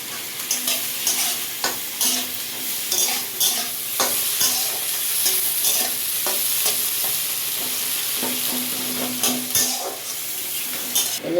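Onion frying with a little salt in a pan for a Bengali fish dish, a steady loud sizzle with repeated stirring scrapes throughout, no voices.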